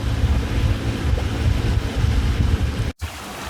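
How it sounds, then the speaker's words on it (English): A sailboat with one reef in the main beats to windward at sea, with a steady broadband rush of wind and water against the hull, loud and continuous, then a brief dropout near the end. "Sailing along very well."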